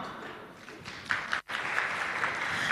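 Audience at a public-sector change management methodology launch applauds the panelists, a steady moderate wash of clapping with a brief dip partway through.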